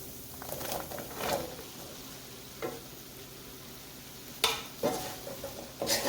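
Breadfruit pieces are stirred into a simmering curry in a pot, with a low bubbling sizzle under scattered scraping and clinking spoon strokes that grow louder toward the end.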